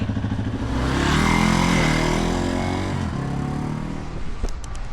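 A motorcycle on a test ride after repair revs up and pulls away close by, its engine rising to a loud roar, then easing off as it moves on.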